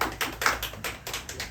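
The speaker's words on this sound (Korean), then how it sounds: "물개 박수." Enthusiastic seal-style clapping at a Christian revival gathering: about eight quick, evenly spaced claps in a steady rhythm, close and fairly crisp, with no voices.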